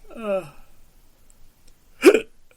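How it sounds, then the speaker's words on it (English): A single sharp hiccup bursts out close and loud near the end, following a brief yawning vocal sound at the start, with near silence between. "yawning and hiccuping at the same time"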